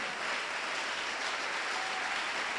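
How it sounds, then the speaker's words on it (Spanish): Congregation applauding during a church sermon, dense sustained clapping at moderate level, steady throughout with no talk over it. "A ver, fuerte, fuerte, fuerte ese aplauso."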